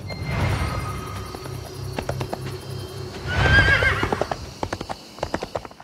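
Horse ridden in the video game Drakensang Online: rhythmic clip-clop of hooves with loud neighs and whinnies, close and clear, alone without talk.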